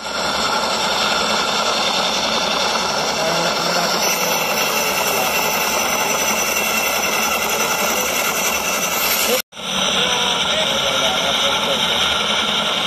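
A helicopter engine roars steadily at the Mall of Asia, loud and continuous with a constant whining drone that cuts out for an instant near the end before resuming.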